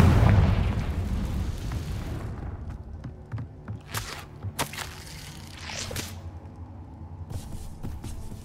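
A Confringo spell explodes in the Hogwarts Legacy video game, a loud booming blast that fades into rumbling debris, followed by several sharp cracks and bursts.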